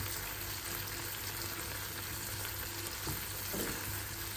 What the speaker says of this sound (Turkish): Burada sosunu yapıyorum. Tereyağını yine baharatlarını, biberlerini az koydum.